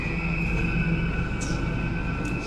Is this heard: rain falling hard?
no